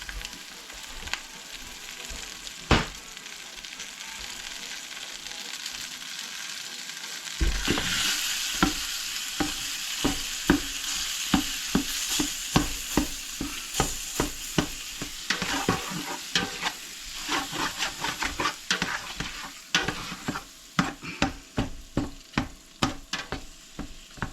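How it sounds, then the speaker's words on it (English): A pound of ground beef browning for chili in a pot with bacon and onions, starting quiet then a loud sizzle with repeated scraping stirs. "I'm just gonna start simply by adding a pound of ground beef."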